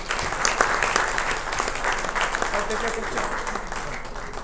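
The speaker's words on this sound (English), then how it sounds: "Can we have another round of applause, please?" An audience at a centenary ceremony for Sri P. Obul Reddy gives a sustained round of applause, dense and steady at close range, with some voices talking beneath it.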